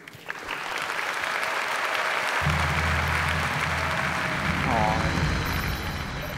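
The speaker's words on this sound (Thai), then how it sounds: "ท่านกรรมการครับขอเสียงปรบมือต้อนรับตุ้มตามครับ" A TV show studio crowd claps to welcome a contestant, a full burst of applause that swells quickly, stays loud and even, and sits over a low hum of background noise.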